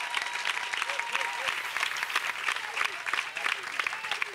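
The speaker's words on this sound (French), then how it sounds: "Clap offering." A church congregation claps as a clap offering, a busy, uneven wash of hand claps with faint voices and calls mixed in underneath, moderately loud and sustained.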